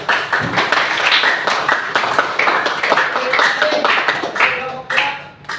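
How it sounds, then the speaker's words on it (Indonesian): A classroom audience claps for a student group after their water-saving presentation, with dense, uneven hand claps that keep going and then thin out at the end. "Oke, kita beri aplaus untuk kelompok 2."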